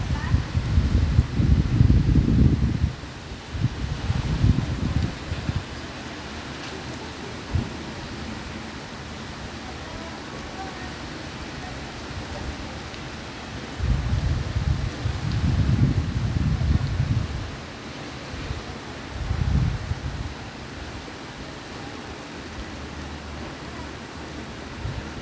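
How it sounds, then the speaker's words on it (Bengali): Strong storm wind gusts outdoors beside a cemetery and buildings, coming as loud, rumbling buffets on the microphone in several separate bursts, with quieter stretches of steady wind between them. "অনেক জ্বর তুফান হইতেছে।"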